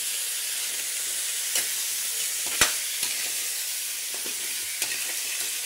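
Mud crab and aromatics saute in a pan for a Filipino lambay dish, a steady close hiss of frying with a few sharp utensil clicks and scrapes as the pan is stirred.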